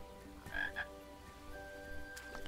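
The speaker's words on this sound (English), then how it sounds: "But there are frogs here still." Frogs croak in the King's Quest PC game, a couple of loud, close croaks with a quieter call near the end over a steady low game drone.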